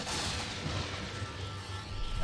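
Gunfire in the sci-fi game Star Wars The Old Republic, a quiet, dense and steady rattle of shots with a low booming undertone, running without pause and with no voices.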